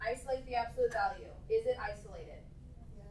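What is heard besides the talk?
No everyday noise stands out behind the speech.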